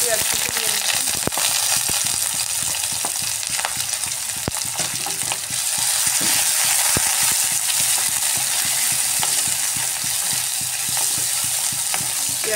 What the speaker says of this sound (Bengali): তেল গরম হয়ে যাওয়ার পর এখানে ফোড়নে আমি পেঁয়াজ কুচি দিয়ে দিচ্ছি।